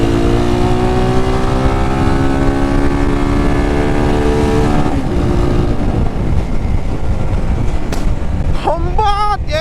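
A crash-repaired motorcycle being ridden, its engine note rising and falling through gear changes under strong wind noise, with someone talking near the end.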